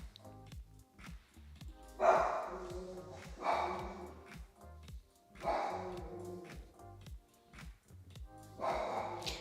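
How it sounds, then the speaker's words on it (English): A small poodle barks repeatedly in short, sharp bursts with brief gaps between them, fairly faint and close by. "I have this little poodle that won't shut up"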